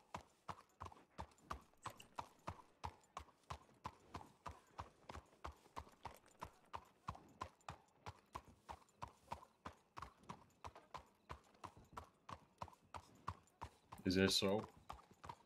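Steady clip-clop of horse hooves in a Red Dead Redemption 2 roleplay server beats in a brisk, even rhythm throughout, with a short burst of voices speaking near the end.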